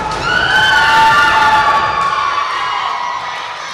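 A wrestling crowd cheers and shouts during a brawl in the ring, a loud, steady roar of many voices that swells and then holds for a few seconds.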